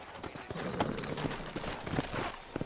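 Horse hooves clip-clop steadily at close range in the Western video game Red Dead Redemption, a string of uneven hoof strikes over a low ambient bed with no talk.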